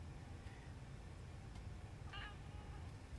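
A cat gives one short, faint meow, with a couple of even softer squeaks earlier, all set against a steady background hiss.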